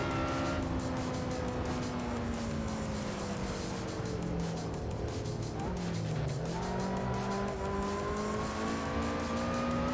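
A nimble, small car in a racing video game revs hard through corners, its engine pitch sliding up and down with shifts while tires squeal and skid, loud and continuous with faint talk underneath.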